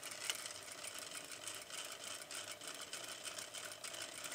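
Sewing machine stitching a bar tack through fabric under the presser foot, a faint, rapid mechanical whirring with steady fine rattling pulses, running continuously.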